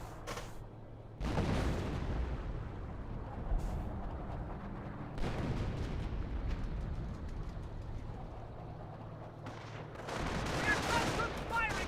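Rattling gunfire and booming bursts from a Company of Heroes battle, with several loud volleys and a machine gun firing in repeated clusters against a steady din of combat, while a commentator talks over it.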